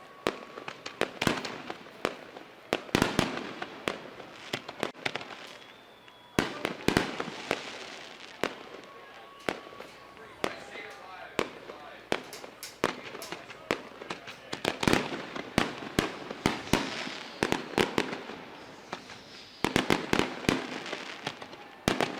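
Fireworks bursting at Skagit Speedway after the Super Dirt Cup dirt track race, with repeated sharp bangs and crackling explosions at irregular intervals, fairly distant, over crowd ambience.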